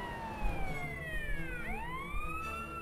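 A police car siren in the video game Garry's Mod wails continuously, its rising and falling tone sweeping down and back up, loud and close over low engine rumble.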